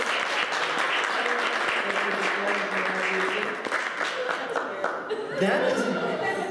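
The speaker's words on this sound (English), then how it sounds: "give these guys a big round of applause" Audience applause at a mentalism show at PBA, steady dense clapping filling the space, with laughter and chuckles mixed in and some voices over the top.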